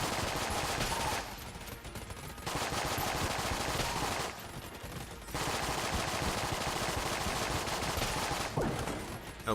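Dense, continuous automatic gunfire from the bullet-hell video game Enter the Gungeon, steady rapid volleys broken by two brief lulls, loud and close with no talking.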